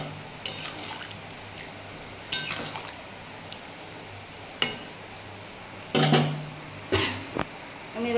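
Fried prawns tipped into a pan of ridge gourd and potato for a thin prawn broth and stirred, with scattered sharp clinks and scrapes of a utensil against the pan over a low steady hum, a few louder clatters near the end.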